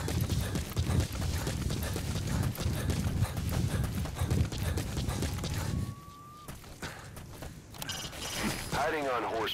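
Horse hooves clip-clopping steadily while riding on horseback through jungle terrain in Metal Gear Solid 3, dense and continuous for most of the stretch, then thinning out near the end with voices talking over it.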